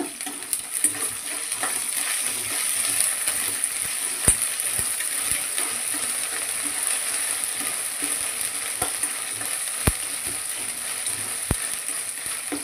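Ginger garlic paste and onions frying in a pan, giving a loud, steady sizzle with occasional sharp clicks of stirring.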